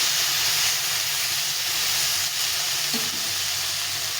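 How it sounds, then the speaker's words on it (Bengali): Spices, lentils and vegetables sizzle loudly and steadily in a hot pan, a dense, continuous hiss of frying with a few faint stirring scrapes beneath. "সবজির সঙ্গে একটু কষিয়ে দিতে হবে"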